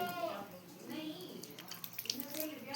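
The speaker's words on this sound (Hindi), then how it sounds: "तो अब मैं इसमें चूल्हे में पानी छिड़क देती हूँ।" Water splashes and sprinkles close by in short bursts onto a clay stove while a voice talks over it.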